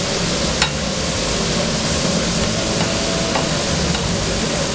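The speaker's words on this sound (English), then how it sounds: "these green beans are caramelizing, these onions are caramelizing" Green beans and onions sizzle and caramelize in a hot pan, a loud, steady hiss of frying with a faint clink of stirring near the start and no talking.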